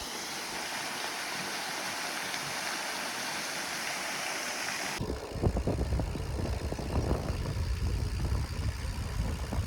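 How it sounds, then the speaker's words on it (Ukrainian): Water rushes and roars steadily at the Burbun waterfall on the Dniester, Ukraine, for about five seconds before cutting abruptly to a lower, rumbling engine-like noise. "Водоспад Бурбун."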